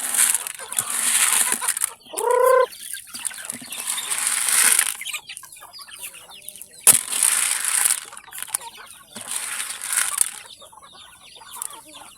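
Chicks peeping at feeding time on a small farm, with bright chirps and clucking from fowl amid rustling, flapping and crunching feed, mostly faint with a louder cluster early on.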